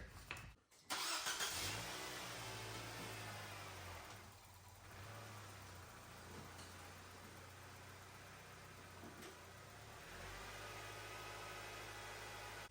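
A Nissan Sentra engine that burns oil runs steadily as the car drives off ramps. The low hum is faint and continuous, with a brief rise partway through.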